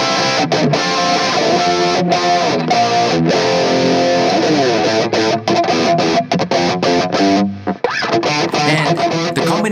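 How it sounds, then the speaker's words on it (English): An electric guitar plays through an overdrive pedal feeding a distortion pedal, giving a thick, saturated rock tone of held chords and riffs with brief muted gaps, loud and up front. "Combination is a distortion pedal with the overdrive pedal in front of it, which will give you a very thick rock sound."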